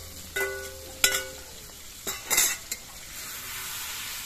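Fried potatoes and spiced snakehead fish are stirred in a pan, with a spoon scraping and clinking against the metal in a few sharp bursts over a faint, steady sizzle.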